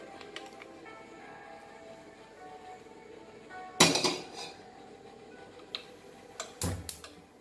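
Metal pan and sieve being handled in a kitchen while preparing tea, with faint scattered ticks and clinks, then a sharp clatter and a few more metallic knocks near the end.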